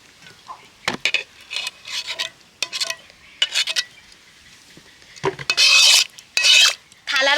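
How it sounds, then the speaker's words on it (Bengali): Mango pulp mixture being spread with a utensil across an oiled steel plate, giving close scraping and rasping strokes in short bursts, growing louder and harsher toward the end. "থালার মধ্যে মিশ্রণটাকে খুব সুন্দর করে এইভাবে খেলিয়ে দেব"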